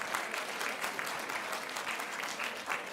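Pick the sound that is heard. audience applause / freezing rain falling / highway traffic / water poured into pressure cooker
audience applause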